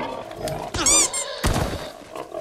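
Wild pigs attack in the Ghost of Tsushima video game, giving short loud squeals and roaring grunts in two sharp bursts over a quiet game background.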